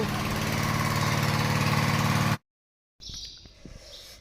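A loud, noisy machine engine runs steadily at close range for over two seconds, then cuts off abruptly into silence before quieter background sounds return.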